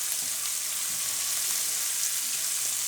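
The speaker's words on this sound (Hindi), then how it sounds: "प्याज को हल्का सा फ्राई करेंगे" Onions lightly frying in a pan for a samosa filling, giving a steady, even sizzle that runs throughout at moderate level with no voices.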